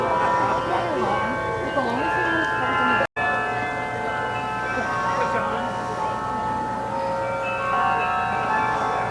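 Carillon bells played live in the Bok singing tower in a Florida garden ring out in sustained, overlapping tones of a tune, with a faint murmur of people underneath.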